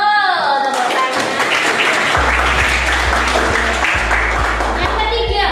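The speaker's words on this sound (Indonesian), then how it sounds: "Tepuk tangan." Hands clapping in a school classroom, a dense patter of claps filling the room with students' voices mixed in, alongside steady low thumps.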